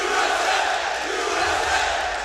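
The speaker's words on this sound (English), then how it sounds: "the crowd chanting Team USA" A large esports arena crowd at The International 2013 Dota 2 tournament chanting Team USA, a dense, loud roar of many voices sustained throughout with rhythmic swells.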